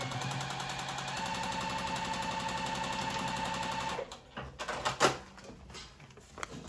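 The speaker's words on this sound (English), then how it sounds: "take it to the machine. Don't forget to back stitch." A sewing machine runs steadily for about four seconds, stitching fabric strips onto a paper foundation for a quilt block, with a fast, even mechanical whir, then stops and gives way to a few clicks and fabric handling noises.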